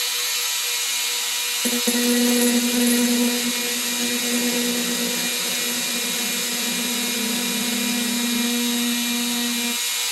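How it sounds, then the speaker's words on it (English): A small power drill starts up abruptly and whines at a steady high pitch while it bores a hole in an acrylic tumbler. The sound is close and continuous, with slight changes in load as the bit works through the plastic. "we're going to drill this hole out"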